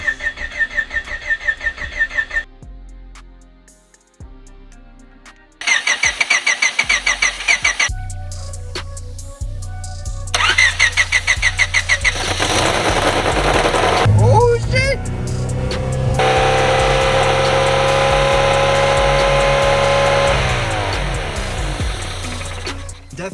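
A Honda Civic hatchback, just fitted with a swapped engine and manual gearbox, cranks in several short bursts, then catches and runs loud with the throttle stuck wide open, roaring steadily close by.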